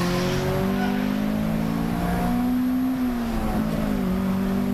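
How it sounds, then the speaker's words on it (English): A Peugeot 205 GTI race car brakes hard into a downhill corner on a race circuit, its engine note dropping and shifting under steady loud track noise with a faint tyre squeal. "205 GTI snaps a brake going down into the dipper."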